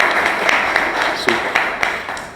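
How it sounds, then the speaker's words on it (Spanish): An audience claps at a presentation on plastics recycling in Mexico, with steady clapping and a few sharper individual claps standing out over a brief stretch. "un aplauso por lo que se ha logrado estos 24 meses con Vida Circular"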